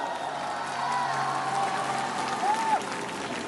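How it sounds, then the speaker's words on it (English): An arena audience at a Grand Prix figure skating event, the women's free skate at Cup of China, applauds in a steady, dense wash of clapping with scattered cheers and a whistle, moderately distant. "big round of applause to Amber Glenn representing United States of America"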